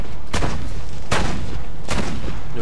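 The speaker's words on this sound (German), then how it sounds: "Die fliehende Maschinengewehrkutsche. Oh, schießen tut die ganz gut." Three heavy, booming bursts of gunfire from a machine gun carriage in Assassin's Creed Brotherhood, spaced roughly evenly and loud up close, each with a rumbling tail.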